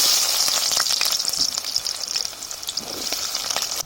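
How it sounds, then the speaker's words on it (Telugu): Chopped onions dropped into hot oil with chili seeds, giving a loud, steady close-up sizzle and hiss of frying with faint stirring scrapes, no voices. "కోసి పెట్టుకున్న ఉల్లిగడ్డలు వేయాలి"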